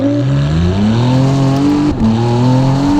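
A 720hp Novitec-tuned McLaren Artura with a race exhaust accelerates hard from inside the car, its engine note climbing steadily, dipping briefly at a gear change, then rising again, loud and continuous.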